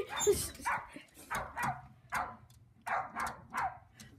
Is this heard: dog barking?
yes